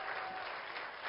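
Applause from an audience at an award ceremony, a steady dense wash of clapping hands sustained throughout without gaps, fairly loud and even.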